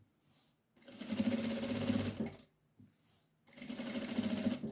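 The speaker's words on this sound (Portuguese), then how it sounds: "Então, aqui, a gente passa uma costura." Two close bursts of machine stitching run a seam along the edge of a cloth napkin, each lasting about a second and a half, with a short quiet pause between them.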